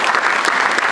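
An audience at an energy transition talk breaks into applause, a loud, dense burst of many hands clapping steadily for a short moment.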